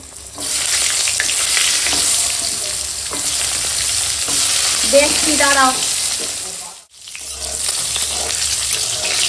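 Pieces of pointed gourd (potol) fry in hot oil with a steady, close sizzle and crackle, briefly stirred midway; a voice speaks a few words over it before a short break in the sound.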